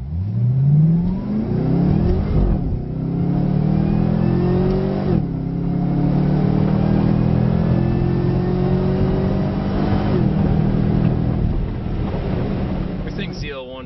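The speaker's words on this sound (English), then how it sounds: "What we're trying to capture here for this is the response time from me pushing the tap upshift on the steering wheel until when the actual shift happens" Chevrolet Camaro ZL1 accelerating hard with paddle tap upshifts, the loud engine note climbing steadily and dropping briefly at each of two or three gear changes, close and continuous with some wind buffeting.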